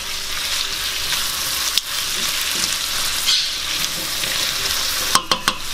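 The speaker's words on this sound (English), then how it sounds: "Stir that in." Scallions and ginger with soy sauce stir-fried in a pan give off a steady, close sizzle, broken by a few sharp scrapes and clacks of stirring near the end.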